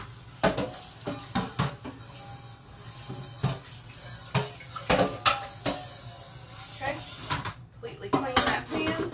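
A cooking pan with bits of carrot being washed in a kitchen sink, with repeated clanks and scrapes of metal and dishes in an irregular rhythm, close and fairly loud, with a person talking over it.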